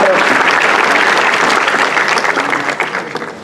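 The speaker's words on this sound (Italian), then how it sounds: "E fatevi un applauso per essere qui" Theatre audience in Marsala giving a sustained round of applause, loud dense clapping that fades slightly toward the end, with some crowd murmur mixed in.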